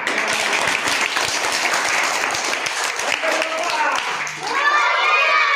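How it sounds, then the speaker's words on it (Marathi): Students in a school gathering clap loudly together in a dense, sustained burst, with a voice rising over the applause near the end. "जोरात टाळ्या"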